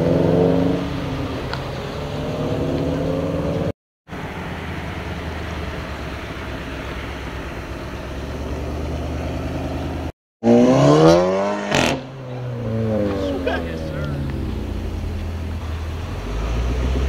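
Cars pull away from a car meet, engines revving and rising in pitch as they pass, with loud, overlapping acceleration sweeps and no voices.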